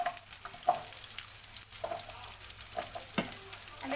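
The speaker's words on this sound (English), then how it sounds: "And now we can throw our onion." Onion sizzles and fries in hot oil in a pan, a steady crackle with small pops and the scrape of stirring, close and clear.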